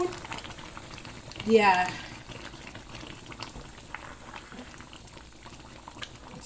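Hot Cameroonian Ekwag, a collard greens dish, bubbles and gurgles softly in a pot as it is stirred slowly. There is a brief louder swell early on, and a voice speaks a word.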